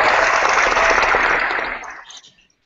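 A seminar audience at the end of a science talk gives a brief burst of close, dense clapping that tapers off and fades to silence after about two seconds.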